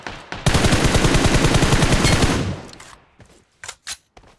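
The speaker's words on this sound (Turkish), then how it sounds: "Arkadan keleşle vuran nerede ya?" Rapid AK rifle fire in PUBG Mobile, a loud sustained automatic burst lasting about two seconds, followed by a few sharper isolated shots and clicks after a short pause.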